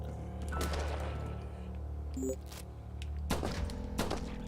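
Gunshots fired at zombies in the survival horror game Outbreak: The New Nightmare, a few sharp blasts spaced apart over a low game ambience hum, fairly close and loud.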